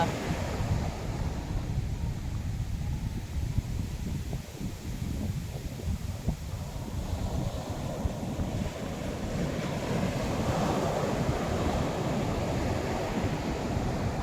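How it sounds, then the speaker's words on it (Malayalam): Loud, steady roar of large surf breaking close by on Alappuzha beach, Kerala, with wind buffeting the microphone and a swelling rush as a wave crashes. "നല്ല വലിയ തിരമാല."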